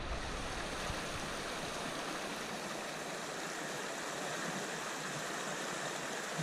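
Tanahutu Creek rushing through Rocky Mountain National Park, a steady broadband wash of flowing water that holds an even, unbroken level from start to finish, with no voices over it.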